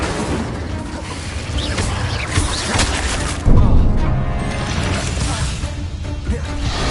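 Spell explosions from a Harry Potter video game, a dense layered barrage of crashes, booms and mechanical clatter that swells into a heavier blast midway, with game chatter underneath.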